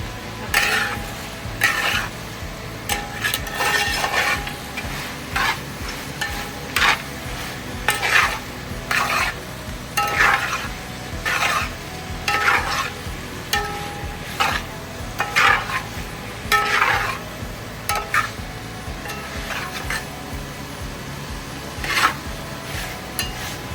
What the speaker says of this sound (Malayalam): എല്ലാ മസാലയും എല്ലാം കൂടി ബീഫിലങ്ങ് ചേർക്കാം